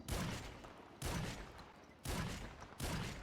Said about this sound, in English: Now we'll move on to our sweeper shotgun.